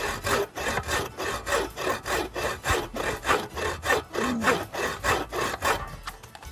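Hand saw cutting through fuel wood in long, even strokes in both directions, a steady rhythmic rasp of about fifteen close, loud strokes that sound the same pushing and pulling, ending in a brief quieter tail.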